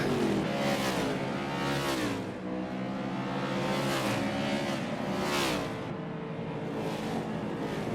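NASCAR stock cars race around Richmond Speedway, their engines roaring loud and continuous as several cars sweep past in rising and falling waves over the full stretch.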